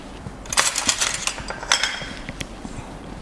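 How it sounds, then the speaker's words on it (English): A spoon clinks against a glass while stirring milk with milk syrup for iced coffee, a series of bright, close metallic taps in irregular rhythm over a quiet background. "Stir to combine."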